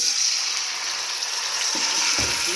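Mashed pumpkin for halwa, with cardamom added, frying in ghee gives off a steady, bright sizzling hiss, close and even, with a couple of soft stirring scrapes near the end.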